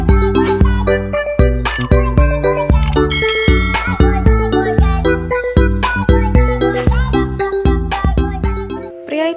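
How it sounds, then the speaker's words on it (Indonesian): A doorbell rings repeatedly in a rhythmic run of bright, sustained ding tones that overlap and decay, loud and close, with no speech. "tiba-tiba bel berbunyi"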